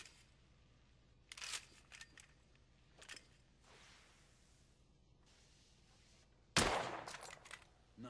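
A telescopic-sight rifle fires in The Order 1886 video game, several sharp cracks spaced apart, the last one loudest and trailing off into a short echo over a quiet background.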